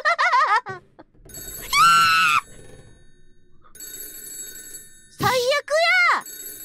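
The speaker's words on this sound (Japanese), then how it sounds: "電話鳴ってるよ。" A telephone rings in a Japanese horror video game. Its tonal ringing alternates with loud, excited, high-pitched shouting and voices close by.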